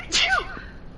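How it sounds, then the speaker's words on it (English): A single close sneeze from a person, a sharp burst followed by a brief breathy tail, heard alone in a quiet room. "Oh, I have to sneeze."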